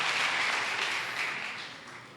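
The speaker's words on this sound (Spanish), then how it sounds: "Un fuerte aplauso para ellos." Audience applause at a church gathering, a steady wash of many hands clapping that slowly fades toward the end.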